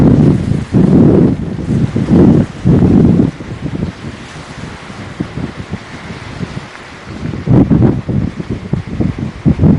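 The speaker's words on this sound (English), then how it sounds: "As you can hear, it's very windy and cold." Strong wind buffets the microphone in loud repeated gusts over a broad rushing roar of waves at Engedi Beach in the cold early morning, with no talking.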